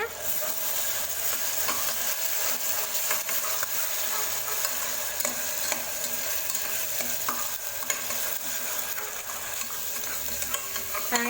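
Ground shallot, spices and ginger-garlic paste sauté for a beef gravy, a continuous close sizzle with frequent spatula scrapes and taps on the pan throughout, no voices.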